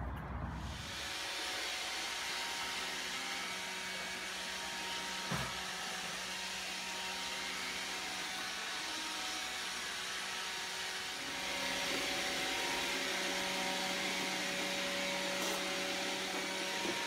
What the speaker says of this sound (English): I love robot vacuums.